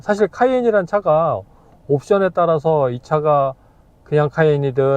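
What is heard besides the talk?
No everyday noises stand out.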